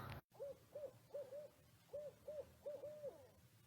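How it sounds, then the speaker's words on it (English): A barred owl calls its rhythmic 'who cooks for you' hoot at night, a series of clear, mid-distance hooting notes in grouped phrases over quiet background. "These owls make a sound, and it sounds like, "Who cooks for you?" when they call."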